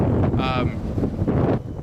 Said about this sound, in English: Well, it's really windy.